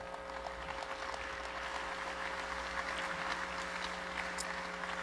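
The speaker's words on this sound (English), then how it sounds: "Let's have a round of applause for our panelists." An audience applauds panelists at a CIO panel session, a steady, fairly faint wash of clapping from a large crowd that holds evenly throughout.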